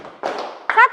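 Children in a classroom game clap and stomp together, a brief burst of thuds and slaps lasting about half a second, followed by a voice.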